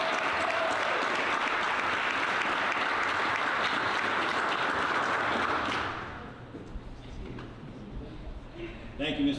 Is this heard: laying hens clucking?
no